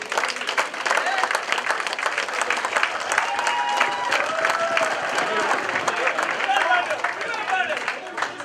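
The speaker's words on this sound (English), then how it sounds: "big applause for Pandu" Big applause at a cricket association award ceremony for an honoree, with dense clapping and a crowd murmuring throughout, steady and loud for the full stretch, with faint voices and whoops mixed in.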